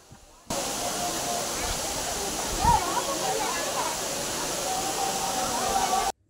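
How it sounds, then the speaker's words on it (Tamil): Water pours down the Courtallam waterfalls in a steady, loud, broadband rush that continues unbroken for the whole stretch, with no talk over it. "அருவிகளில் தண்ணீர் கொட்டியது"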